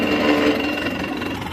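An old Zetor 5511 tractor engine runs in gear on a farm, giving a steady, loud, rough mechanical drone with a rattling texture that holds evenly throughout, with no talking.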